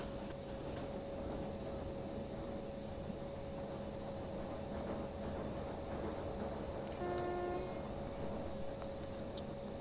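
The Karnataka Express passenger train running, a steady low rumble and rolling drone heard from inside, with a sustained tonal whine throughout and a brief horn-like tone near the end.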